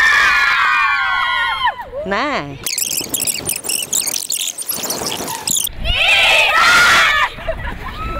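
A festival crowd at Qstock 2014 screams and shouts in loud, shrill bursts of mostly girls' voices, rising and falling with a brief spoken word in between.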